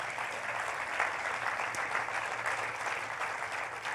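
Sustained crowd applause at a Back the Blue political rally, a dense steady wash of many hands clapping at fairly constant loudness throughout, with no one speaking over it.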